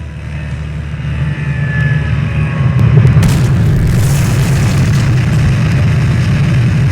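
A dramatized explosion as a Connair aircraft crashes into a building in Alice Springs, 1977: a rising engine roar builds into a heavy, sustained boom that lingers as a loud rumble, with no speech.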